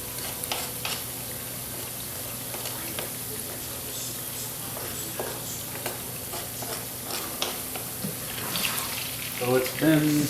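Potatoes frying on the stovetop at 350 with the lid off, a steady low sizzle and crackle throughout, rising louder near the end as onions hit the hot pan.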